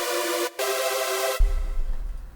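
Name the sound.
Give Me Access synth preset played in Serum 1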